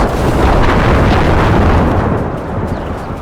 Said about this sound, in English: see if they want to throw a few hand grenades down upon the Austrians